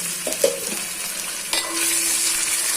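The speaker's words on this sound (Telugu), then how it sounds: "ఇప్పుడు జింజర్ గార్లిక్ పేస్ట్ కూడా బాగా కలిపేసి ఇది పచ్చి స్మెల్ కూడా పోవాలి. అంతవరకు మనం ఫ్రై చేసుకుంటూ ఉండాలి." Ginger garlic paste is stir-fried in a pan for chicken curry, with a steady close sizzle and a few scrapes and clinks of a spoon, and no one speaking.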